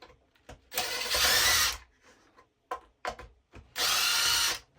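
A power drill backs bolts and screws out of a 3D-printed plastic bed on a Tamiya-style dump truck model. Two loud, close whirring bursts are separated by softer clicks and handling noises.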